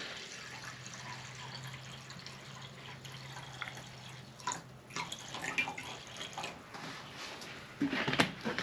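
Apple cider vinegar poured for a barbecue sauce in a camp kitchen, a soft steady liquid trickle and drip, fairly quiet, with a few louder splashes and container clatter near the end.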